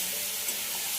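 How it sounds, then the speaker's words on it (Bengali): Meat frying in a pan, giving a steady, dense sizzle that holds at an even level throughout with no pauses or talk. "মাংস ভাজা হচ্ছে"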